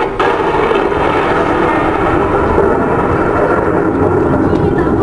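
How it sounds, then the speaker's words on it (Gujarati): Thunder from a lightning strike during a heavy rainstorm rolls as a loud, continuous low rumble that fills the whole stretch without a break. "આપણને વીજળી લાગી છે"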